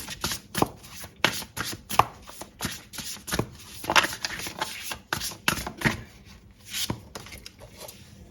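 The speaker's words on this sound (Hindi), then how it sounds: "तो 2 कार्ड निकालेंगे हम इस वीक के गाइडेंस के लिए।" Tarot cards being handled and drawn, giving a run of crisp card flicks and shuffling snaps at an uneven rhythm, close and clear with no talking.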